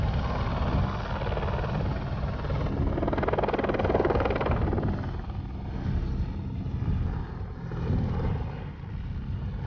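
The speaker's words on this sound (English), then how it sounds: "So after the helicopter left," A helicopter departing above a glacier, its rotor thrum and turbine whine loud and steady at first, then easing slightly as it pulls away.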